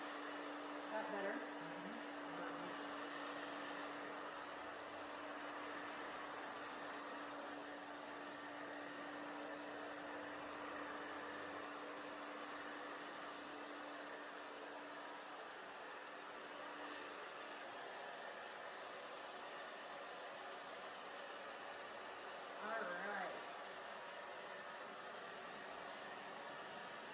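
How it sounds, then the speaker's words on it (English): A hair dryer blows steadily during a bob haircut on thick hair, a constant whooshing hum held for the whole stretch at low level, with a stylist talking softly now and then. "Drying forward here."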